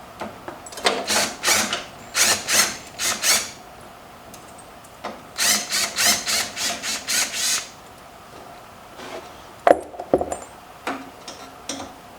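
Allen wrench loosening bolts on a racing go-kart, with two runs of rapid even ratcheting clicks, close and fairly loud, then scattered knocks and handling noises.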